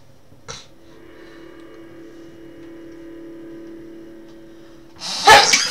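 A single sharp sneeze bursts out near the end, loud and close, after a faint click and a quiet steady hum of game background tone.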